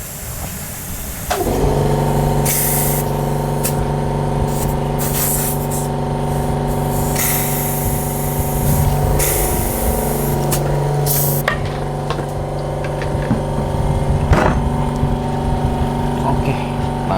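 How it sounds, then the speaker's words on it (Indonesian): Compressed air hisses loudly and continuously into a Pirelli motorcycle tyre, with an engine humming underneath and bursts of hissing rising and falling as the air flow changes. "Ayo kita coba isi angin dulu."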